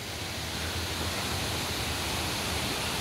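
The Baltir waterfall beside a hand-built Shiva temple runs in full monsoon spate, a constant, even roar of falling water that fills the whole stretch without a pause or any voices.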